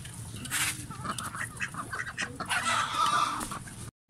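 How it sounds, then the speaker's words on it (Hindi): Ducks and other poultry quack and cluck close by in a busy, overlapping chorus. "डक्स आ जाओ बाहर"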